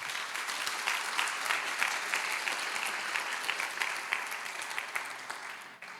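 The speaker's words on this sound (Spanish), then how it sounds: "Den un aplauso al Señor Jesucristo." A church congregation claps together in steady applause, a dense patter of many hands lasting several seconds before tapering off.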